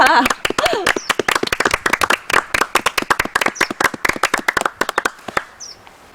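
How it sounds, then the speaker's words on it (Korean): A small audience claps in encouragement, sharp close individual handclaps in an uneven rapid rhythm, thinning out near the end as a voice speaks briefly at the start. "우리 용기의 박수를 한번 보내주십시다"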